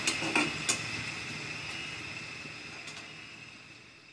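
Onions and green chillies fry in a pan with a steady, soft sizzle, and a few metallic clinks of a utensil against the pan ring out near the start.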